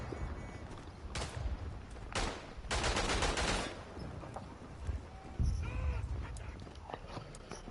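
Sharp gunshots and short volleys of rifle fire crack out in the World War I trench shooter game Verdun, some near and loud, others more distant, with brief pauses between bursts.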